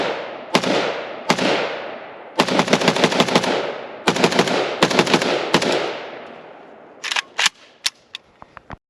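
Loud, sharp gunshots from an Arsenal SAM5-62 rifle at an outdoor range, fired in rapid strings of shots with echoing decay between groups, then a few quicker, fainter cracks near the end.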